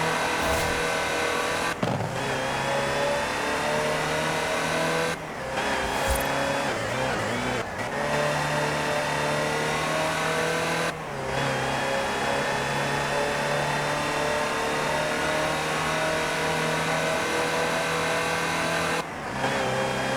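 Land Rover Type 3 utility vehicle engine in Forza Horizon 4, revving loudly and continuously with steady droning tone and a few brief breaks where the pitch drops and climbs again.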